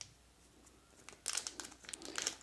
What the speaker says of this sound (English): the SIM removal tool is actually put in a plastic bag inside the box